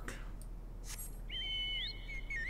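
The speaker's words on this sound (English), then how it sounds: "Whistle to draw them out." A player whistles to draw out creatures in Final Fantasy XIV, producing a clear, high, sustained tone that slides up near the end, preceded by brief chirpy game sounds over a low steady hum.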